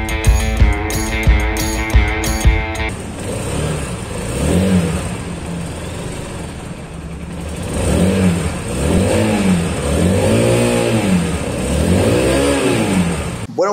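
Suzuki DR 150 motorcycle engine revving up and down repeatedly in rising and falling sweeps, loud and close, after a brief burst of other sound at the start.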